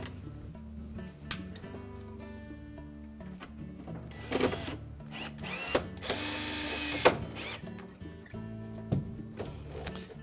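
A power driver running screws into the door panel of a Whirlpool dishwasher during a door latch repair, giving short whirring bursts of varying length over a low, steady background.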